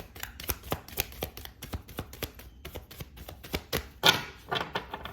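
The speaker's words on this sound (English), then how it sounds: "I'm going to give it one more shuffle here" A deck of tarot cards is shuffled up close: a quick run of sharp, crisp riffling taps with a louder flutter near the end.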